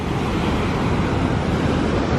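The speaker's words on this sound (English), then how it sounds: "You get the sound of the ocean," Loud, continuous ocean surf washes and roars right in front of a beachfront resort restaurant in El Salvador, a dense steady rush with no speech.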